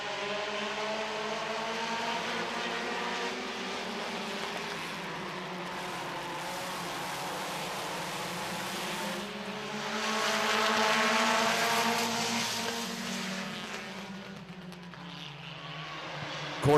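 Race cars roar around Midvale Speedway in a continuous blend of engines rising and falling in pitch, loud and sustained as the pack laps the track, swelling briefly as cars pass nearer.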